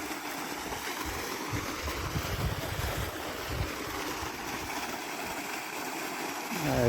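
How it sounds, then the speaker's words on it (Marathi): Irrigation water runs through a farm field, a steady rushing, gurgling flow heard close and continuous with some wind noise and no talking. "पाणी पण सोडलेले"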